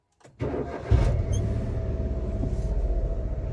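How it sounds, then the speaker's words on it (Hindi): A 2014 Maruti WagonR VXI with its engine warning light on, at 67,695 km, cranks briefly and catches, then settles into a steady, close idle with a slight pulsing rhythm and no talking. "तो आप देखना जब मैं स्टार्ट करूँगा"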